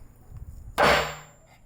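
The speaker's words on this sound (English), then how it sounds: "You have to center punch it first" A hammer strikes once on a sharpened drill blank that serves as a center punch on a broken bolt on a BMW E9X/E82, a single sharp metallic clang that rings briefly before fading, with soft shuffling beforehand.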